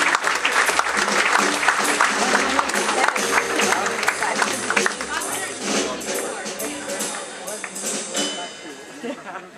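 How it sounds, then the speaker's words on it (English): Audience on a cruise ship, a Princess Cruises Captain's Circle event, breaks into loud, sustained applause for a couple welcomed to the stage, with a few voices and cheers mixed into the clapping as it slowly tapers off. "Another round of applause for them, please."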